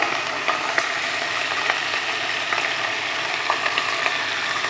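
Ham and onion fry in a hot pan with a continuous bright sizzle and crackle, punctuated by occasional pops and stirring scrapes, close and fairly loud with no voices.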